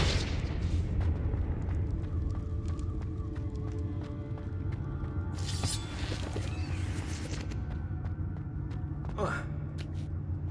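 Explosive spells Bombarda and Confringo going off in the video game Hogwarts Legacy, with heavy booming blasts and rumble under game voices and battle noise.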